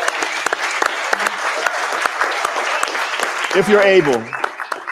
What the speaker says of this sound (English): can we give librarians and teachers a round of applause?